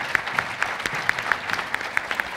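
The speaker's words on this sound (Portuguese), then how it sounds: "Um aplauso, por favor." An audience at a foundation meeting in Portugal claps in a steady, moderately dense burst of applause, with individual claps audible at close range.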